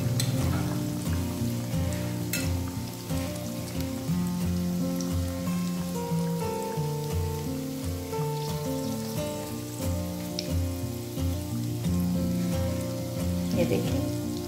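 Falafel fry in hot oil with a continuous, even sizzle and fine crackling, heard close up beneath steady background music.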